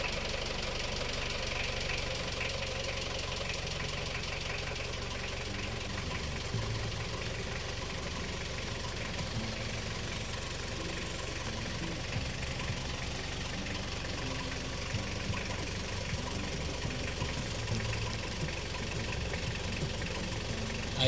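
Car engine running steadily after its drained battery was revived, a continuous even idle hum with a slight knocking texture, close and constant, no voices.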